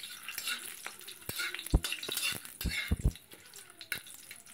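Whole garam masala and bay leaves fry in a little refined oil in a large wok-style pan, giving a gentle sizzle broken by several sharp knocks and scrapes of a spoon stirring against the metal.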